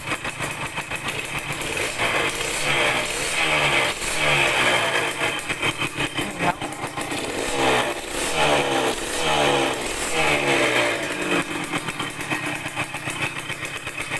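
A Yamaha DT100 motorcycle engine runs after carburetor air-screw tuning, a loud, steady two-stroke idle that rises and falls with several throttle blips, heard close with no speech.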